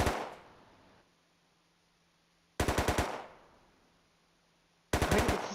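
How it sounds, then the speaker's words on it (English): Gunfire from the video game Rust: a loud initial shot fading away, then two sharp bursts of rapid automatic shots around three and five seconds, with near silence between and no talk. "Yeah, he's shooting someone, right?"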